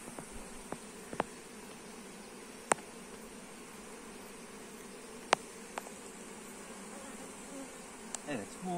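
Honeybees swarming around an open hive frame during an inspection, a dense continuous buzz close by with occasional faint clicks and taps of frames being handled.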